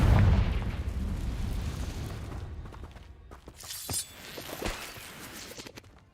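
Confringo explosive spell blast in Hogwarts Legacy, a loud close boom with a shattering burst that rumbles away over a couple of seconds, followed by scattered debris clatter and smaller crackling pops.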